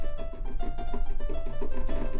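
A piano in FL Studio with an R&B trap mix template, bright repeated chords with a steady rhythmic pulse and beat underneath, sounding loud and processed with no voices.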